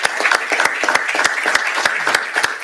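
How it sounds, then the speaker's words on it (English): Listeners at a Google business messaging talk give a round of applause, close, loud clapping with sharp individual claps standing out through a steady wash. "could you give a round of applause to Susan"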